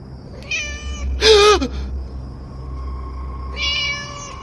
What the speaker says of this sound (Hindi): और तभी मेरे कानों में बिल्ली की आवाज आई।